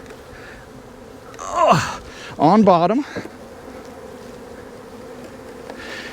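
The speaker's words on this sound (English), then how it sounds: "all the bees are flying like crazy now, guys" Honeybees swarm and buzz around an opened barn hive during the first inspection after winter, a steady close drone with a few sharper, louder passes near the middle; a voice speaks briefly.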